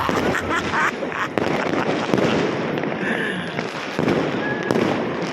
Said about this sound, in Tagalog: Ay, ang ganda ng mga fireworks ng mga kalangga